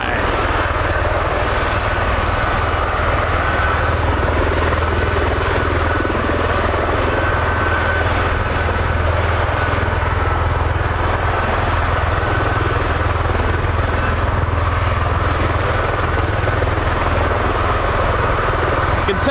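CV-22 Osprey tiltrotor aircraft at an Air Force base, a continuous loud rotor and engine drone holding steady throughout, with no talking over it.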